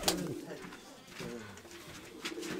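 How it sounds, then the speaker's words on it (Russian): Pigeons in a dovecote coo softly in low, rolling calls, a few repeated coos close by amid light rustling background noise. "Ладно, пошли, Виха, ты ж мне голубів кормить."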